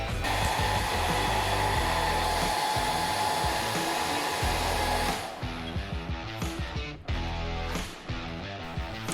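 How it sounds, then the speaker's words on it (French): A hair dryer blows with a loud, steady whoosh for about five seconds, then keeps running with a rougher, fluctuating tone and brief dips. "on va essayer de les ramollir avec le sèche-cheveux."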